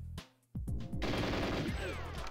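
GoldenEye 007 gunfire on Nintendo Switch, a dense burst of rapid automatic shots, loud and close, after a brief lull with a couple of single shots.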